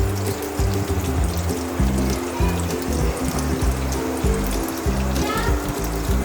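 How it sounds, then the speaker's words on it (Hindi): Soy sauce pours into rice with a steady, soft liquid trickle lasting several seconds, heard over rhythmic background music. "उसमें ये सोया सॉस में डाल दूँगी।"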